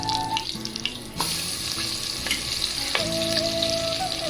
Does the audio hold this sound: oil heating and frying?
yes